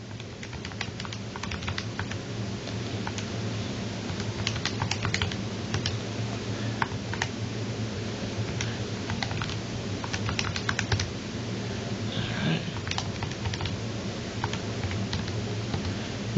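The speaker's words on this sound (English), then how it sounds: "so let me type that in real quick." Rapid typing on a computer keyboard, a steady stream of close, crisp key clicks with occasional heavier taps, continuing for about sixteen seconds over a faint background hum, no speech.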